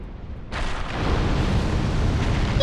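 Bed of Chaos boss in Dark Souls hurling fire: a sudden roaring whoosh bursts in and swells into a sustained rumbling blaze, close and loud.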